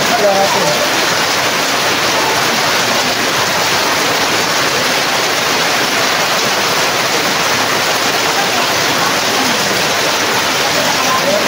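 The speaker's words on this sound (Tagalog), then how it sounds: "Lakas ng ulan." Heavy rain pours steadily throughout, a thick unbroken hiss close by, with faint voices mixed in beneath the downpour.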